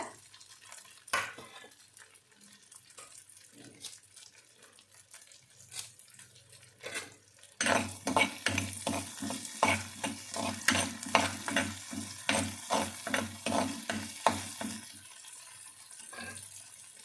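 Garlic cloves and curry leaves are sautéed in a pan, starting with quiet scattered scrapes and then a sudden louder sizzle and rhythmic stirring strokes that fade at the end.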